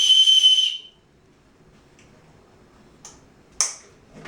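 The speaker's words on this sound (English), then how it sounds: "on the sternum strap, you've got quite a loud whistle that you can use in emergency situations" Loud emergency whistle on the sternum strap of an Osprey Stratos 34 backpack gives one shrill, piercing blast of under a second, followed by near silence with a few small clicks and handling taps.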